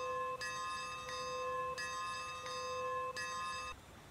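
Locomotive bell on a 2-6-0 Mogul steam engine in Train Simulator, striking four times at a steady, even pace, each clear metallic ring sustaining into the next before a brief fade at the end.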